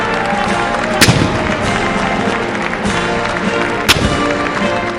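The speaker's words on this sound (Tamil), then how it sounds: "ட்ரம்ப் பதவியேற்றுக் கொண்டதைத் தொடர்ந்து பீரங்கி குண்டுகள் முழக்கம் செய்யப்பட்டன." Two sharp booming shots of a ceremonial cannon salute at Donald Trump's presidential inauguration ring out about three seconds apart over a continuous murmur of crowd noise.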